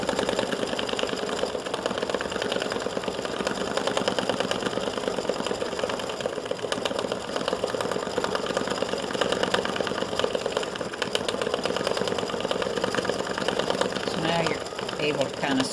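An embroidery machine stitches a heart design onto card stock, its steady fast mechanical whir and needle clatter running unbroken throughout, close and even in level.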